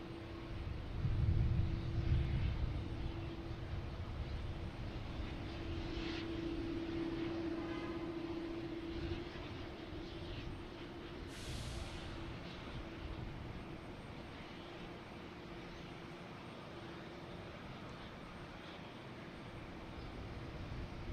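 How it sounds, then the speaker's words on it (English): A JetBlue Airbus A220 jet airliner lands at Boston Logan Airport with a steady, distant engine roar that holds for about twenty seconds. It is louder at first and eases slightly, with no voices. "next to come in is JetBlue coming in from Reagan, an A220"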